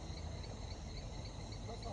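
Faint, steady high-pitched chirping of crickets, continuous and distant, with a low murmur underneath.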